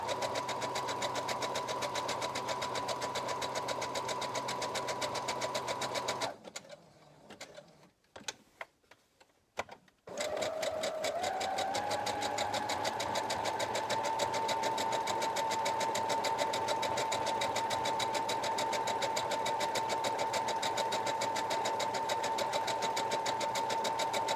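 Domestic sewing machine stitching fabric appliqué, a steady continuous motor whir with rapid needle ticking that stops briefly for a few seconds of near silence, then resumes at a slightly different speed.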